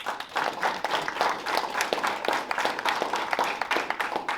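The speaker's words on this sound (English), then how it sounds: "So let me give a round of applause to our" An audience applauds the Wildcat tennis team at a school recognition event, dense continuous clapping with sharp individual claps throughout.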